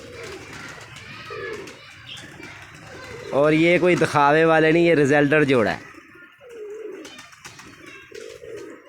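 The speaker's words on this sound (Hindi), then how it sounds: "ये सुंदर कबूतर देखें आप।" Pigeons at a pigeon club, a breeding pair, give a loud burst of cooing in the middle, with someone talking before and after.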